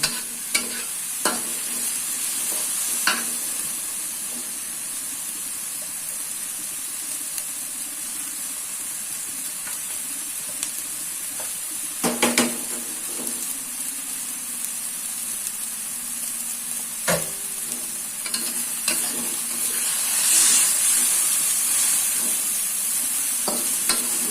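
Mi goreng noodles fry and get stirred in a pan over high heat, a steady loud sizzle with intermittent scraping clicks of the utensil throughout.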